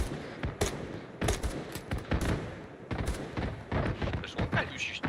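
Gunfire poured onto an APC in the military video game Arma 3: close, sharp bursts and single shots in an uneven rhythm, stacked with heavier thuds, while voices talk under the shooting.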